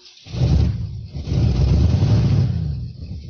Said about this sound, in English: The engine of Dr. Stanpole's car roared exhaustedly.